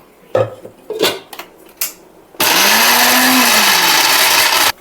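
A mixer grinder blending green curry paste with ice cubes, preceded by a few clinks and knocks as the jar is handled, then a loud, steady whirring roar whose pitch sags and recovers as the motor labours, running to the end.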